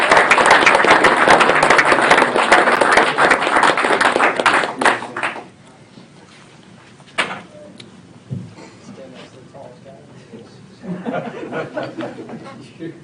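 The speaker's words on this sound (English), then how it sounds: "Can I get one more round of applause for these guys," Room of people applauding council honorees at a city council meeting, dense loud clapping for about five seconds that cuts off abruptly, followed by quieter room noise, a few scattered sounds and low murmuring talk.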